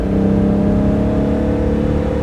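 A 1971 Fiat Dino 2400 Spider with its Ferrari-derived engine revs loudly and steadily up close, a dense throbbing exhaust note held for a couple of seconds without speech.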